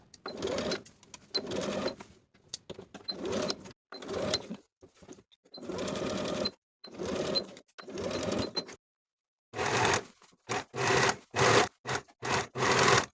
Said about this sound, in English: Sew the collar in place from one side to the other with a 1/2 inch seam allowance